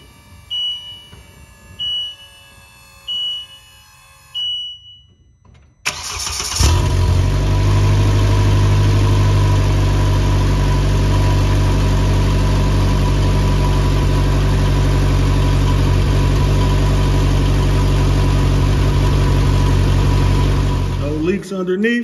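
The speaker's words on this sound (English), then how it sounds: "We're gonna start it up and get it, the oil pressurized" A 2020 Polaris Slingshot SL is started, and its engine catches and settles into a loud, steady idle close by. A few seconds of electronic chimes come before the start.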